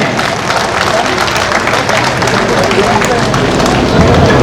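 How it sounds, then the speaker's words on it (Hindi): An audience at a community talent award ceremony applauds a student, dense sustained clapping from a large crowd, loud and continuous with a murmur of voices underneath. "इस बच्चे के लिए जोरदार तालियां हो जाए"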